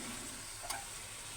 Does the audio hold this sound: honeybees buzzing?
no